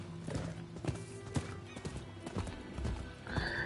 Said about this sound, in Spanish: ahí está el caballito